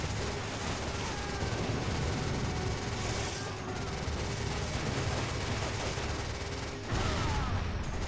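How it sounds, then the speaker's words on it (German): Machine gun firing in Resident Evil 5, a sustained, dense rattle of rapid shots and crashing impacts that continues almost unbroken for eight seconds, loud and close, with brief dips in the barrage. "Schieß, was das Maschinengewehr hergibt."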